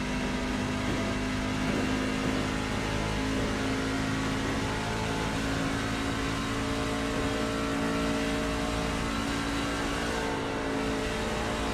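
A NASCAR race car at Michigan pulls off pit road, its engine droning loud and continuous with a steady high whine and slight rises in pitch throughout, with no talking.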